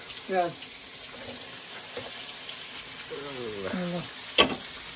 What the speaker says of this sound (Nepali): प्याज मजाले चलाउँ हल्का त्यो पनि रातो रातो हुने गरी होइन अलिअलि रातो हुने गरी